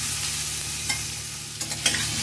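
Potato and pumpkin with spices sizzle steadily in a pan while a spatula scrapes and stirs in a few soft, irregular strokes, close and alone without voices.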